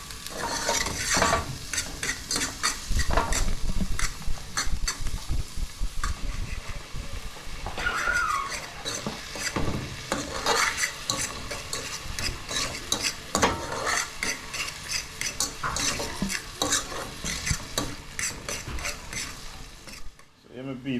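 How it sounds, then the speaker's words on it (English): Vegetables stir-fried in a pan while cooking a kingfish catch, a steady loud sizzle with constant scraping and clinking of a utensil against the pan, close and continuous, cutting off sharply at the end. "Give them vegetable and season them and stir fry,"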